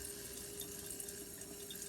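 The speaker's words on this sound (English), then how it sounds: "basic running water" A kitchen sink tap runs steadily, an even and continuous rush of water, heard close and alone at low volume.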